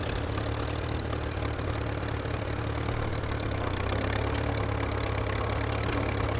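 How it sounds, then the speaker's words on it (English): A tractor engine idles in the video game Teardown, a constant low, rough drone with a slight knock that holds steady throughout, with no talk over it. "Tractor."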